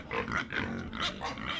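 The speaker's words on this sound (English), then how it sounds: "Pig," A pig grunts in a quick series of short, rough, nasal snorts and oinks, close and fairly loud, with no talking over them.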